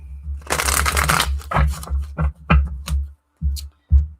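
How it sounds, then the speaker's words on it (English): Tarot cards shuffled by hand in a run of riffling bursts, a long dense shuffle followed by several shorter snaps and pauses, close and clear with no talking. "2 more shuffles, and I'm supposed to separate the deck."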